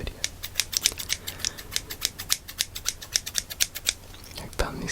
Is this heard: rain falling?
no